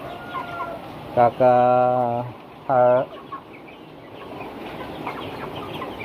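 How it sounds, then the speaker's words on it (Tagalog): Native backyard chickens give two short, harmonic clucking calls close by, the first longer than the second, over a low outdoor hum. "may nangingitlog na naman pong native chicken dito"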